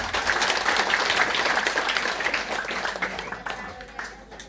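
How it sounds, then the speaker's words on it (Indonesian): Guests at a thanksgiving reception for a nun's perpetual vows break into loud, dense applause that holds steady and then thins and fades toward the end. "saya minta kita semua tepuk tangan untuk keluarga besar ini"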